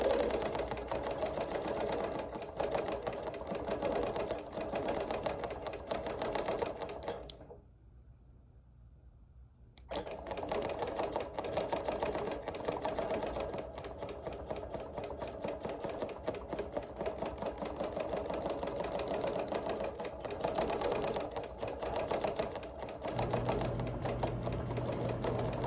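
A sewing machine stitches dense background quilting on a wool appliqué quilt with hand embroidery, a steady rapid mechanical whir that runs for a long stretch, pauses briefly, then resumes, with no talk.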